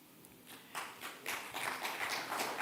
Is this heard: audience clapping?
yes